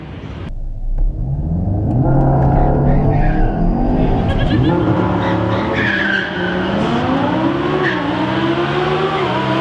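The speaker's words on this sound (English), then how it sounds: "the Alltrack's going up against the R8" A turbocharged Golf R Alltrack racing an Audi R8 on a quarter-mile drag strip: a loud, close engine roar climbs through several gear changes, with tire noise at the launch and a faint voice underneath.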